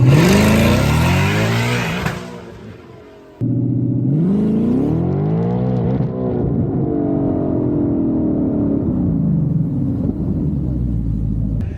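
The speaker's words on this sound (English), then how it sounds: "You just watched me absolutely annihilate a driver's side axle shaft." Supercharged Mustang with a Whipple or VMP blower launching hard, a loud roaring rev that climbs and cuts out, then the engine pulls again and drones on steadily close by.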